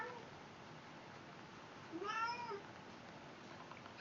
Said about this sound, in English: My cat's having a bad day.